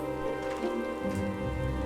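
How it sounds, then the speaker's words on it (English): Steady rain pours down in Final Fantasy XIV: Shadowbringers, in the Eden area, a dense, even hiss that holds throughout with no voices over it. "this downpour is precisely the result we were hoping for"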